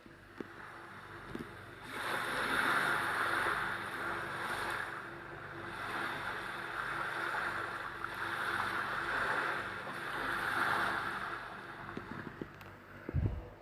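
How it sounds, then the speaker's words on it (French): Ocean waves roll in and wash out in slow, repeating swells, a soft surging hiss with wind, and no voices. "mouvement des vagues,"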